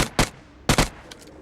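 PUBG Mobile gunfire cracks in quick bursts, two sharp double shots followed by a fainter pair, loud and close in the game audio with no talking.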